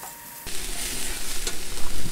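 Cabbage and dumplings stirred in a hot pan, a spoon scraping steadily through the food over a continuous close sizzle of frying that swells in after a brief quieter start.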